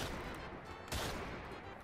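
A single sharp shot from a modded gun in Minecraft, a brief broadband crack near the middle over a steady noisy game background.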